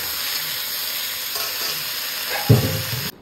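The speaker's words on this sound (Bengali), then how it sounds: "এইবার দেখো ফুলকপিটা হলুদ দিয়ে ভাজা হয়ে গেল" Cauliflower frying with turmeric in a pan gives a continuous bright sizzle, with stirring scrapes and a louder burst of spatter near the end.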